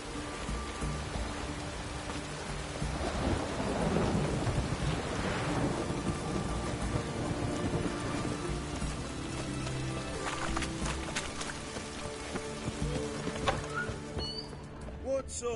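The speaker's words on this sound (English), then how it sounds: "The storm, damn it." A thunderstorm in the video game The Witcher 3 brings a steady hiss of heavy rain with deep, rolling thunder swelling and fading throughout.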